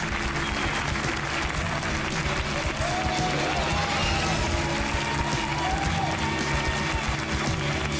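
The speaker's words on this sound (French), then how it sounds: "On l'applaudit très fort." Studio audience on a French TV talk show applauding a journalist, dense sustained clapping at a steady loudness, with traces of voices and music mixed in.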